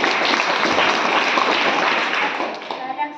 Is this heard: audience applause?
yes